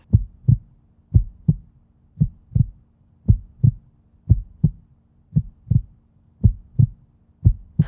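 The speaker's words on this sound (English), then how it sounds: "It was the beating of the old man's heart." Heartbeat sound effect in a dramatic reading, a slow, steady lub-dub thumping of double beats, low and close, with no voices.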